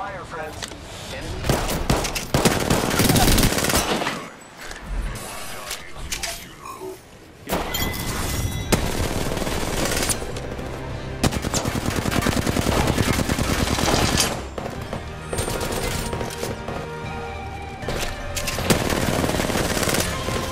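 Dense automatic gunfire in the battle royale shooter Apex Legends, loud bursts of rapid shots with breaking and clinking effects, running nearly nonstop with brief lulls amid game sounds and some speech.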